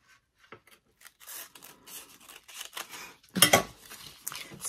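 Scissors cut crepe paper strips for zinnia petals, producing close crisp snips and papery rustling that build from sparse light cuts to a louder burst of cutting near the end, with no voices.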